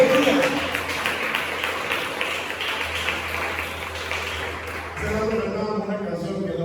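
A church congregation claps for God, a moderate stretch of applause that fades out under a preacher's voice.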